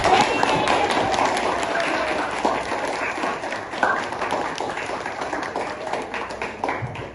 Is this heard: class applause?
yes